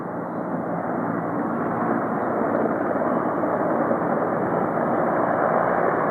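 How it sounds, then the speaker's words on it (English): Firefighting helicopters dip water from a pond during the Gomez Peak Fire, giving a steady, moderately loud rotor and engine drone that holds constant with no talk over it. "We got the helicopters dipping out of the pond,"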